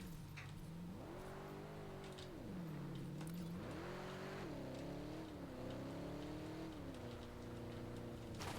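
A vehicle engine in Helldivers 2 drones and climbs as it drives, its pitch rising and dropping repeatedly as the gears shift, loud and continuous with faint clatter in the background.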